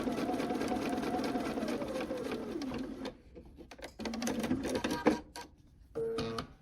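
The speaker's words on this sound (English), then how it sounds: "you will use your standard 1/4 inch seam allowance and sew it on" A sewing machine runs a quarter-inch seam on quilt fabric, a steady close whir that stops midway, then resumes in shorter bursts with pauses and a few clicks.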